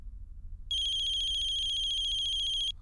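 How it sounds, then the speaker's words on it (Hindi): A phone ringtone sounds for about two seconds as an incoming call arrives: a loud, bright, steady electronic trill pulsing rapidly, with no voices over it. "पहली बार मैडम का फोन आ रहा है"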